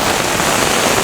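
Heavy rain pours steadily during a severe thunderstorm in Brooklyn, a dense, continuous hiss with no breaks and no voices over it.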